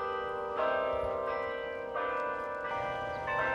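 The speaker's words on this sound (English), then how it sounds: "two monkeys with hammers that strike the bell" A bell on the Central Park musical clock in Manhattan, New York City, struck by hammer-wielding monkey figures: three clear ringing strikes at even intervals, each leaving a long metallic hum.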